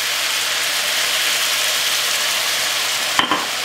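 Zucchini and soy sauce sizzle steadily in a hot pan for hibachi-style cooking, a loud continuous hiss with a brief clatter of stirring near the end, no talk.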